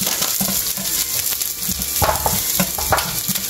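Onions fry in a hot pan for a Filipino pata tim dish, a steady close sizzle with scattered crackles and stirring scrapes throughout.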